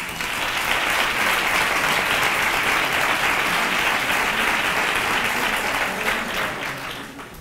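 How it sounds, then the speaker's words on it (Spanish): An audience claps loudly and steadily in a dense, sustained round of applause that tapers slightly at the end, at a Three Kings proclamation and coronation event in Nerva. "que también le quiere dar un gran aplauso"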